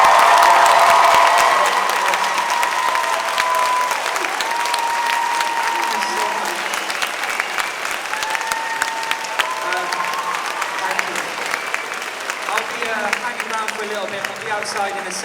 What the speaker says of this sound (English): when I say thank you, let's do some clapping